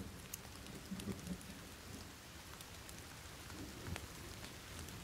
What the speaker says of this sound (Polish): deszcz zaczął padać